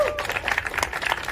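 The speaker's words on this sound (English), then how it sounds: "Let's give them a round of applause." Brief burst of clapping from a tech conference audience, a quick patter of many hands at moderate volume.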